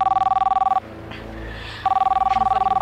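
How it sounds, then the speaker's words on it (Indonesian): A mobile phone rings with a steady pulsing electronic ring, loud and close, in two bursts separated by a short gap. "Handphone ibu bunyi"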